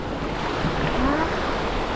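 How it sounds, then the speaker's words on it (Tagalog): Sea waves slap and wash around a small fishing boat off San Diego, a steady close surging hiss mixed with light wind and no voices. "kasi may alon-alon"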